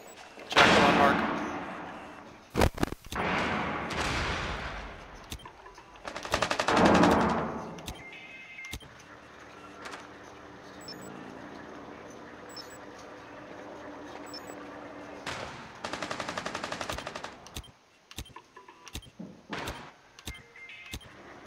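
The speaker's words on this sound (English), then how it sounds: "Wait, I'm shooting at the window." Bursts of automatic gunfire fired at a window in Rainbow Six Siege on the Consulate map, loud rapid volleys early on, a quieter stretch, then more sharp shots and bursts toward the end.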